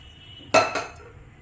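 Two quick metallic clinks close by as a pressure cooker pot is set in place on the stove before cooking val bhaji, against a quiet kitchen background.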